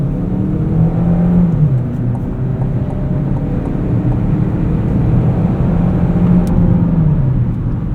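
A 2025 Chevrolet Equinox RS AWD with a 1.5-liter turbo engine accelerating from the cabin, a steady rising engine drone with road and wind noise, loud and continuous with no talking.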